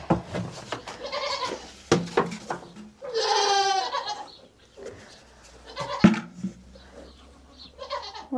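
Dairy goats bleat in a barn stall with kids nearby, a long wavering nearby bleat standing out among shorter calls, clunks and soft shuffling noises.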